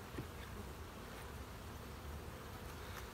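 Honeybees hum in a dense, steady buzz around a weak hive being condensed into a nuc, a continuous faint drone with no talking.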